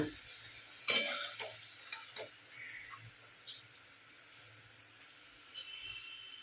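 Fritters sizzle in hot oil while frying, with a soft steady hiss, a sharper clatter near the start, and a few light stirring scrapes.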